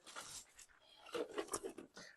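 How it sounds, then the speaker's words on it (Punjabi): A sick female dog whimpers and pants in short, uneven bursts, fairly close, with a few brief whining cries toward the end. "ਕੁੱਤੀ ਬਿਮਾਰ ਵਾਲੀ ਐ"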